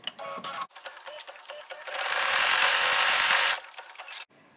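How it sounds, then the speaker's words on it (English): A sewing machine stitches a tack-down line on fabric, starting with short bursts of needle clatter, then running in a steady close whirr for about two seconds before stopping. "And stitch the red mug tack down line."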